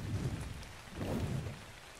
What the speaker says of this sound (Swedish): Det regnar.